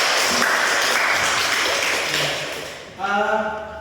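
A classroom group applauds during a school positive-culture session, a loud, dense clatter of clapping that fades near the end before a short burst of voices and a tonal sound cut in.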